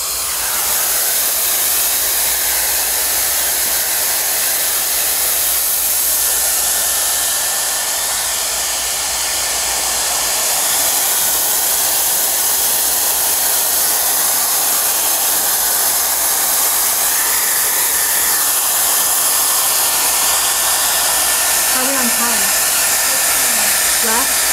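A hair dryer blows steadily while drying hair in a salon styling session, a loud, even whooshing hiss that continues without a break.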